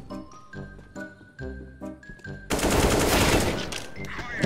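Negev machine gun fire in CS:GO, a long loud continuous burst with heavy rattling that starts after a few seconds of rhythmic game jingles and tinkling tones and carries on steadily to the end.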